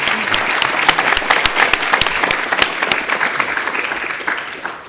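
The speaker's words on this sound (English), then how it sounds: "one last round of applause to all our panelists" A large audience at a panel breakfast event applauds the panelists steadily and loudly, with dense clapping sustained throughout and no voices standing out.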